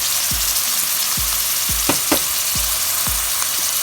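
Peppers, onions and garlic sizzle steadily in a pan for a stewed salt-cod dish, with several sharp utensil clacks and scrapes against the pan repeating every half second or so.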